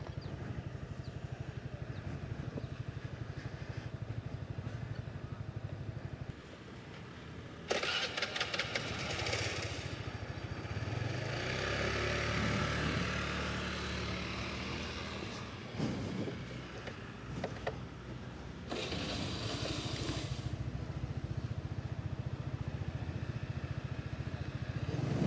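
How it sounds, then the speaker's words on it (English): A motorbike engine starts and rides along a street in Chiang Mai, Thailand, pulling toward a stop sign. The steady engine drone rises and dips, mixed with wind noise, and there are brief pauses. "I guess we're just starting the bike and coming to this stop sign."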